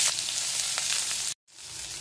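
Chopped onion sizzles in hot mustard oil in a pan, a steady close-up crackle with a brief cut to silence partway through before the frying resumes.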